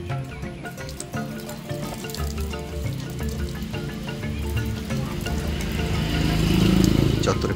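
Water pours and splashes steadily as feet are washed before entering a temple at the Mathura tea garden in Alipurduar. The flow grows louder toward the end, with voices and tonal background sound.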